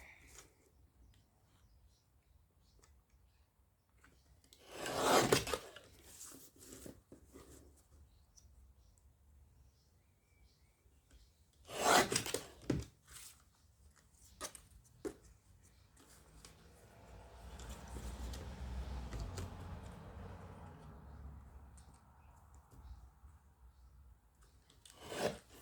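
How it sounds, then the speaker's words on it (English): A tiny guillotine paper cutter trims small pieces, giving two sharp, quick chopping cuts spaced several seconds apart amid faint handling and rustling, fairly quiet. "for these little ones, my tiny guillotine is so much better"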